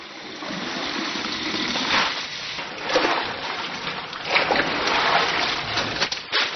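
Herb branches and roots being washed by hand in water in an early-morning herbal tea workshop, giving continuous splashing and sloshing with a few stronger splashes.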